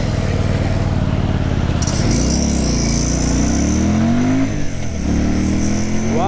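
A Keeway Benda V302C two-cylinder belt-drive cruiser motorcycle revving loudly up close, its exhaust note rising and falling through several pitch sweeps over a steady engine rumble.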